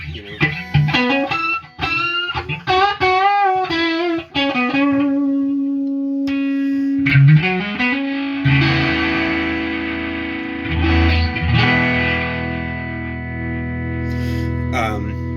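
Electric guitar through a high-frequency exciter pedal with a bright, shimmering processed tone, chords ringing with sustained, sympathetic-string-like resonance, played close and fairly loud without any talking.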